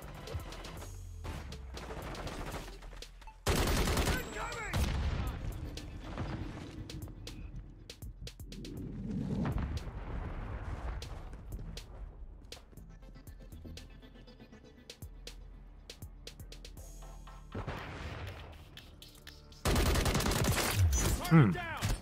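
Gunfire in the video game Call of Duty Modern Warfare III during a team deathmatch on the Dome map, with loud close bursts of shots and quieter exchanges between them.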